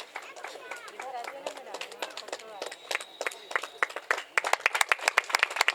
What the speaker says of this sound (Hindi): जोरदार तालियां और बुद्ध